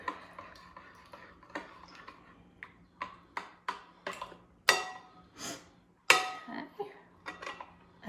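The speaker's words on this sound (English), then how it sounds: "now I'm going to put in my lemon juice. And stir that up together" Lemon juice stirred into a mixing bowl for a lemon meringue pie, heard as a run of sharp clinking taps of a utensil against the bowl, some louder and ringing, over a low steady hum.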